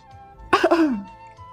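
A single short, dry cough or throat-clearing sound, close and sharp, with a quiet background hum.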